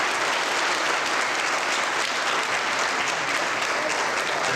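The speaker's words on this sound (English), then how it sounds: "they deserve a nice round of applause" An eighth-grade graduation audience in 2006 applauds the teachers, a dense, loud, continuous roar of many clapping hands that holds steady throughout.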